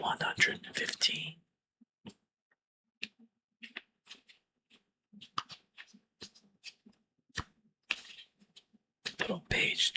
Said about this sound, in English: Little page turning ASMR.